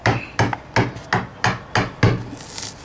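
A big screwdriver working a window frame loose from its sides in a flimsy house during a French door install: seven sharp, evenly spaced knocks on wood, close and distinct, with no talking.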